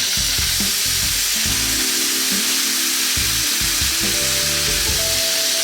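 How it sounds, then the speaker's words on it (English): Lemon juice hitting braising fennel in a hot pan on a stovetop, producing a loud, steady sizzle and hiss that continues throughout with occasional stirring clatter. "with the heat on, I've got some lemon juice here, get that in"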